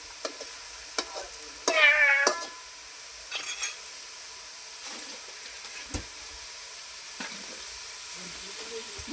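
Sava bhaji greens cooking on a tava: a faint, low sizzle broken by scattered scrapes and clinks of stirring, with one louder, brief squeaky scrape near the start.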